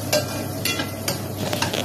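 A spatula scrapes and stirs sautéed bottle gourd with pork and a little pepper in a pan, a few scraping strokes over a steady low sizzle, close up and with no talking.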